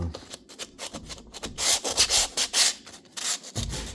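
Hand sanding with 80 grit sandpaper during window care work, heard as a series of rough, scratchy back-and-forth strokes with a steady rhythm, close up and fairly loud, with no talking.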